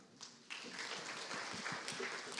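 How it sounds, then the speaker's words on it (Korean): An audience at a Daegu medical tourism conference session breaks into applause, a steady patter of many hands clapping that begins abruptly and carries on evenly to the end, with no speech over it. "큰 박수 부탁드리겠습니다"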